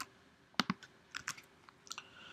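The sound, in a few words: typing on a computer keyboard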